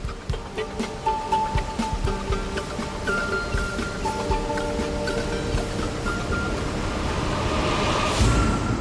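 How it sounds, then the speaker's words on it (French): Mediterranean water bursting through the newly formed Bosphorus channel and flooding a shallow freshwater lake, heard as a dense, continuous roar of rushing water, loud and unbroken, with surging swells. "Une fois le canal formé, les eaux comprimées de la Méditerranée se déversent, emportant tout sur leur passage."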